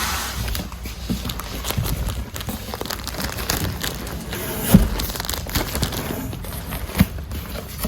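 A plastic bag rustles at a shop checkout with irregular close crinkling and a couple of sharper crackles throughout.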